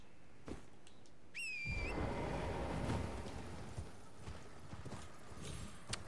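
Horse hooves in the video game Elden Ring clop faintly in a soft, irregular rhythm beneath a whistle-like tone and ambient game sound, with little talk.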